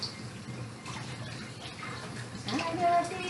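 Chicken pieces rinsed under a running kitchen tap, a steady close splash of water with brief clinks and shifts in the flow as the meat is handled.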